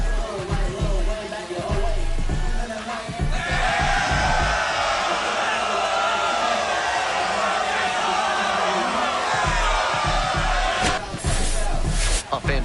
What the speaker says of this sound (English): Well, that'll fire up the home crowd.